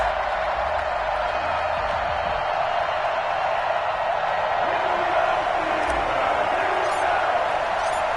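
A stadium crowd roars in an EA Sports NFL video game, Cincinnati Bengals against Pittsburgh Steelers, a dense, continuous wash of cheering from the stands that holds steady throughout, with a commentator talking over it.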